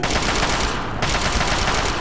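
Rapid automatic gunfire rattles continuously in the video game Fallout 3, loud and close, a dense stream of shots with no talk.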